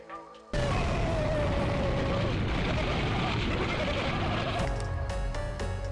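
A marine emergency flare on a sailboat bursts with a sudden pop and then hisses loudly and steadily as it burns at close range.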